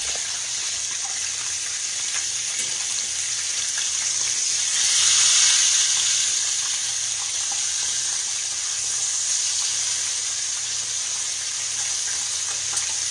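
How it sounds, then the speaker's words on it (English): A flipped steak sizzles steadily in a frying pan, a continuous close hiss that swells briefly partway through, with no talking. "Let's flip our steak."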